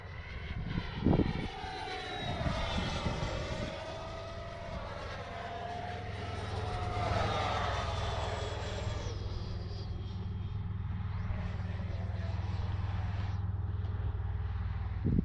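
A Freewing Avanti S 80mm RC jet on a 6S setup roars steadily overhead at high speed, its ducted-fan whine sweeping up and down in pitch as it passes close and loud, with no talk.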